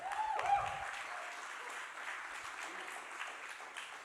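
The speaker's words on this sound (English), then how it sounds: "Clap your hands and shout." A crowd claps steadily, a dense wash of applause that continues evenly for several seconds without voices standing out.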